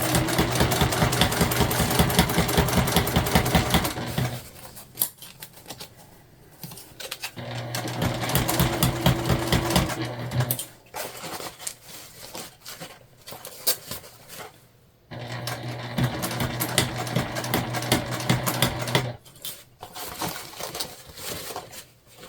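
A sewing machine stitches a lunch bag with webbing in rapid mechanical bursts, loud and close, running in three long runs separated by quieter pauses with fabric handling.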